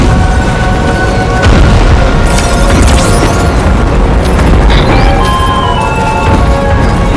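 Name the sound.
chiral cinders impact explosion in the video game Death Stranding 2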